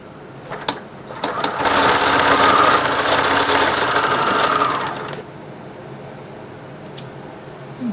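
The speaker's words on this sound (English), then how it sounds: "Sew the bottom edge together." A sewing machine stitches the bottom edge of a patchwork Christmas stocking in one steady, loud, close run of about four seconds, with a few clicks and handling noises before and after.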